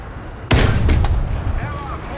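A single heavy tank cannon shot from a T-34 1940 in the video game War Thunder, bursting loudly close by with a deep rumbling tail that slowly fades.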